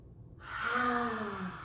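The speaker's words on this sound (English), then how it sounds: "Maybe taking some of those big breaths we did during our counting breath." Children in a kids' yoga class take one long, deep breath, a drawn-out inhale lasting over a second that swells and then eases off, close and fairly soft.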